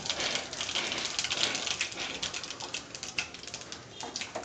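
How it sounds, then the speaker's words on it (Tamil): Mustard seeds and fennel seeds crackling and popping in hot oil in a pan, a dense steady sizzle with rapid irregular spitting pops throughout, close and moderately loud, no talking. "எண்ணெய் சூடாகிட்டு கடுகு போட்டுப்போம், சோம்பு போட்டுப்போம்"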